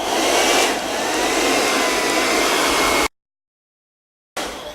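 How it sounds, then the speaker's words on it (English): A hair dryer blows with a loud, steady rushing hiss for about three seconds, cuts off briefly into silence, then starts again near the end. "You can even go back to the hair dryer for just 2 seconds"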